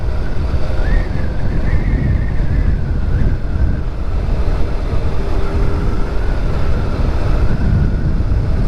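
A new Suzuki Hayabusa motorcycle out on the road, its engine a steady low drone buried under constant loud wind rush across the rider's microphone, with no break throughout.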